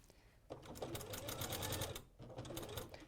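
A sewing machine quilts a seam through several layers of fabric, running in a steady, rapid hum with a rhythmic needle pulse. It starts after a brief pause and stays close and moderately loud throughout.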